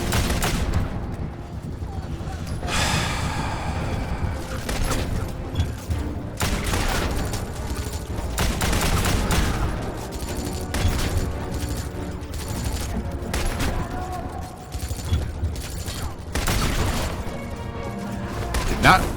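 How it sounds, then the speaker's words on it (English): Rapid bursts of gunfire and crashing impacts from the 2009 Xbox 360 shooter Wanted: Weapons of Fate, loud and continuous across the whole stretch, layered under game sound and speech. "Do you not notice that I'm shooting you, sir?"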